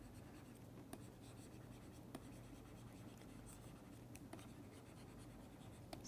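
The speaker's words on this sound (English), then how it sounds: "let me write it quickly" Quick handwriting during a lecture on language change, with faint scratchy pen or marker strokes and a few soft taps over a quiet room hum, no talking.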